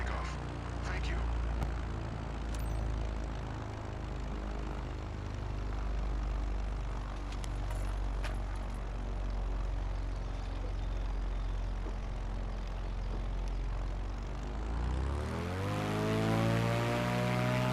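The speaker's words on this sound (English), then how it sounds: "All right, taking off from runway 24." Airplane engines spool up for takeoff from runway 24 in Microsoft Flight Simulator 2024, a steady droning hum that swells sharply near the end as power comes up, with a voice talking briefly.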